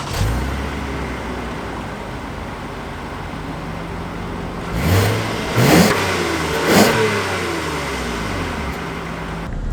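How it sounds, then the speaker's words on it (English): A 2019 Toyota Avalon XSE pulls away from a stop in rush-hour traffic, its engine note rising steadily. The drone builds to a few louder surges heard from inside the cabin, with no talking. "let's take the 2019 Avalon out to see how it drives"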